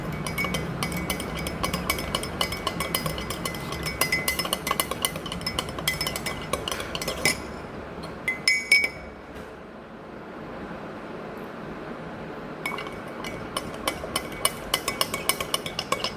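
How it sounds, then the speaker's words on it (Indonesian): A glass rod or spoon stirs a chemical solution in a glass beaker during a chemistry solubility-product experiment, giving rapid, bright clinks and taps against the glass in close, busy bursts, with a short lull partway through. "Perlahan-lahan masukkan dan campur. Aduk."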